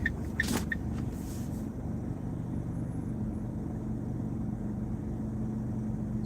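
A car drives and makes a wide turn, its engine a steady low rumble with road noise throughout, and a few brief light rattles or clicks near the start.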